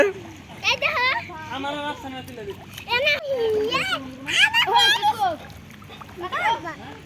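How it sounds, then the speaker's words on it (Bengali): Water splashing in a swimming pool as people duck under, short splashes under loud, excited speech from children and adults calling out throughout. "মাহির ডুব দে, ডুব দে, নাক দে, নাক দে, ডুব দে, হ্যাঁ ডুব দাও, দিদি ডুব দাও"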